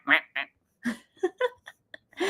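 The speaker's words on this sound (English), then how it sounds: "the ducks were trying to get away from that crazy woman." Ducks quacking in a rapid series of loud, close calls, several bursts separated by short pauses, with a longer call at the end.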